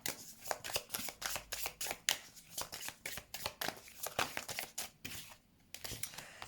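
Tarot cards are shuffled by hand in repeated rustling, flapping bursts that come in a steady rhythm, close and fairly clear, then stop briefly and resume.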